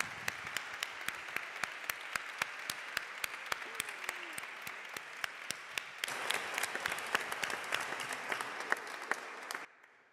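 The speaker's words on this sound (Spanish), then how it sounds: "este aplauso va por todos ellos y por todas ellas" A theater audience at a Campus Iberus "Tesis en 3 minutos" doctoral thesis competition bursts into sustained, dense applause lasting about ten seconds. The clapping swells louder partway through, then stops abruptly.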